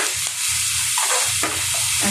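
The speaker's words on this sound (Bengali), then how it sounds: "এখন আস্তে আস্তে ভাজবো।" Onion, garlic and salt frying in a pan, a steady close sizzle with intermittent scraping strokes of stirring.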